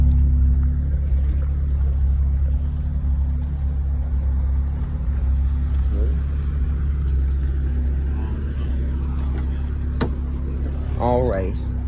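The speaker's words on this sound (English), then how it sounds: "And there's your exhaust down there." A 2002 Honda S2000 convertible idles with its engine running, a steady low exhaust rumble and drone heard from close by throughout, with people talking over it and a few short chirpy sounds near the end.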